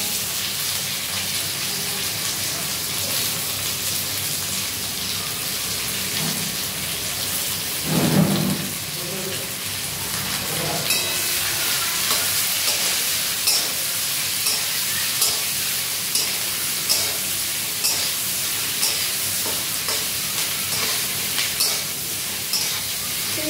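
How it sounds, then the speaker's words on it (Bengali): Onion with ginger softening in hot oil in a pan: a steady broad hiss of frying runs throughout, with a brief louder burst early on and faint regular stirring taps later, no voices. "পেঁয়াজটা এবারে ভেজে নরম করে নেব।"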